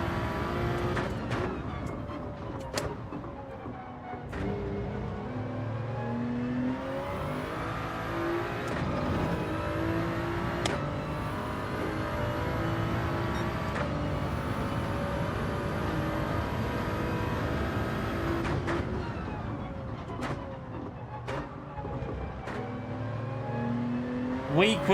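A race car engine in Gran Turismo 7 revs hard under throttle, its pitch sweeping up and down through gear changes over about twenty-five seconds, steady and prominent throughout.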